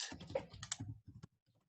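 Fingers type rapidly on a computer keyboard, a dense, close run of key clicks that thins to a few scattered taps at the end.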